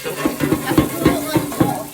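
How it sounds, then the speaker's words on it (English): Tap water running in a home kitchen while hands are washed during cooking of spaghetti and meatballs, a close, steady splashing flow broken by repeated soft knocks and rubbing. "I'm gonna wash my hand in the meantime, guys."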